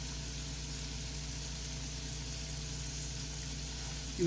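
Salmon and shrimp fry in a pan while being turned, giving a steady, even sizzle throughout. A brief louder bump comes at the very end.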